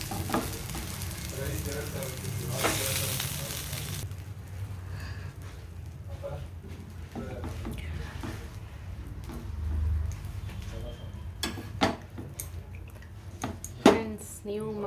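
Mackerel frying in a pan gives a continuous sizzle, with occasional utensil clinks and scrapes that grow sharper and more frequent toward the end.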